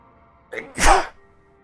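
A single sharp human sneeze, close and fairly loud, with a brief inhale before the burst and nothing else around it.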